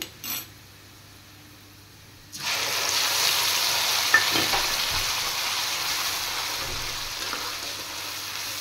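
Ground spices, with turmeric, salt and chilli powder, hit hot oil alongside fried onions, bay leaf and whole dried red chillies for a katla fish curry. After a quiet moment, a loud, steady, close sizzle bursts in and keeps hissing.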